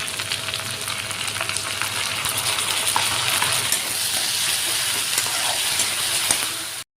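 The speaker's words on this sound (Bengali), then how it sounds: "ভালো করে তেলের সাথে ভাজা নেই পেঁয়াজটা" Onion frying in hot oil with a bay leaf makes a loud, steady sizzle with crackling pops and occasional stirring, close up and continuous, ending abruptly.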